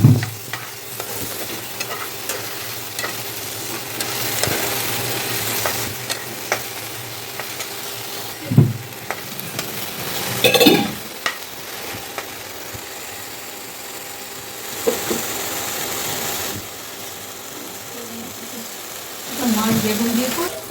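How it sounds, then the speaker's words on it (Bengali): Hog plum (amra) pieces frying with salt in a pan, stirred with a utensil that scrapes and clatters intermittently over a steady sizzle, with a few louder knocks spread through and one near the end. "এবার একটু নাড়াচাড়া করে দেবো।"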